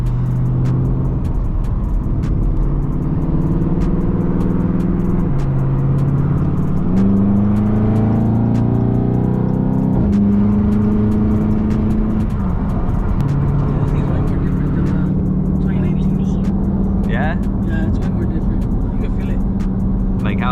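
A supercharged 392 engine in a Dodge Charger Scat Pack Widebody idles loudly and close, its deep rumble shifting in pitch now and then, while people talk over it throughout.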